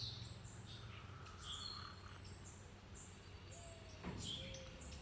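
Several birds, including a dove, call faintly outdoors in short scattered chirps and coos over a steady background hum, with one brief louder burst near the end.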